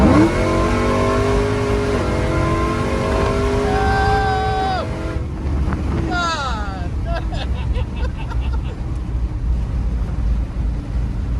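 A 1993 truck with an 800+ hp supercharged LT4 V8 and 10-speed automatic roars past, its rising engine note climbing through gears before sweeping by and fading, loud over road noise with background voices.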